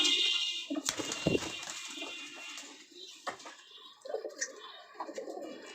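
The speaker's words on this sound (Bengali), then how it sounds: "দেখেন, এটা কিন্তু জালালি কবুতর।" Jalali pigeons coo close by in soft, repeated low phrases, with a few sharper bird notes and light rustling in a quiet setting.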